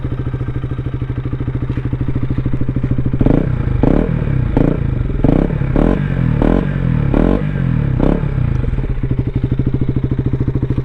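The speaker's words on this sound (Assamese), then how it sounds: "তোমালোকক এতিয়া অলপমান বাইকৰ চাউণ্ডটো শুনাই দি আছোঁ" A KTM Duke 200 motorcycle idles loudly and close with a pulsing exhaust thrum, then a series of sharp evenly spaced throttle blips rev the single-cylinder engine before it settles back to idle.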